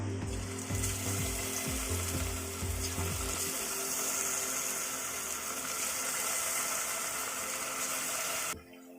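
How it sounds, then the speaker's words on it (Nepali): Potatoes drop into hot refined oil over a medium flame and fry with a loud, dense, continuous sizzle. A few clattering knocks at the start settle into a steady crackling hiss until it cuts off at the end. "अब चाहिँ म यो आलुलाई फ्राईको लागि तेलमा राख्दैछु।"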